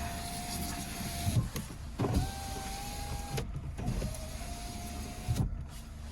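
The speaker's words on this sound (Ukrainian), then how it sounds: "Магнитола працює, склопідйомники" The electric power windows of a Skoda Fabia run up and down three times in a row. Each run is a whirring motor hum that ends with a clunk as the glass stops, with brief pauses between runs.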